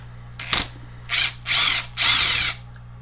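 Power driver whirring in short bursts as it backs Phillips screws out of a Harbor Freight chainsaw during a teardown: one brief zip, then three longer runs close together, close and loud.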